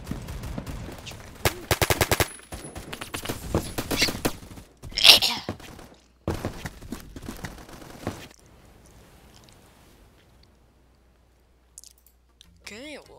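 Shotgun blasts and rapid gunfire ring out in a video game, several loud clustered bursts over the first eight seconds, then near silence with faint stray sounds near the end.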